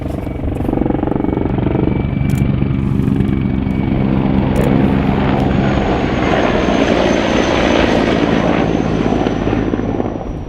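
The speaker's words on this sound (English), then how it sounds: "Wow, yeah, look, it's a Hind attack helicopter." A Hind attack helicopter flies low over the battle for Donetsk International Airport, its rotor and engine roar loud, close and steady throughout, with no voices.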